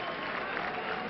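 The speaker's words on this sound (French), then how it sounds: "Il applaudit quand même" A home crowd at a Villeurbanne basketball game against Simmenthal Milano applauding, a brief, steady wash of clapping with slightly muffled, old-recording quality.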